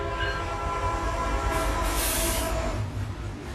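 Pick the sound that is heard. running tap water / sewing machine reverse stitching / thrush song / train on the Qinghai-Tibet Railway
train on the Qinghai-Tibet Railway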